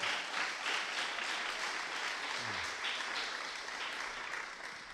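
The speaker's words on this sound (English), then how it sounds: "I want everybody to give him a loud round of applause for Chris Genard" Audience applause at a live event, dense, loud and sustained for several seconds before slowly thinning, with no talk over it.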